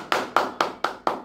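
Five sharp hand claps in an even, quick rhythm, close and loud, each with a short decay and nothing else around them.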